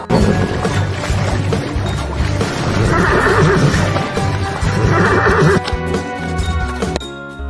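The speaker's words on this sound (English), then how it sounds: "H for horse." A horse whinnies over a bouncy music track, the neigh repeating in bursts before the music stops abruptly near the end.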